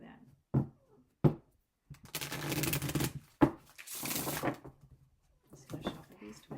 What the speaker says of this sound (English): Just gonna shuffle these